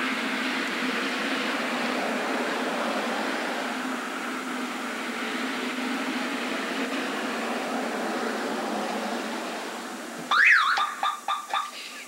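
A car alarm kicks in near the end, a loud warbling siren that sweeps up and down in short bursts after a long stretch of steady broadband background noise.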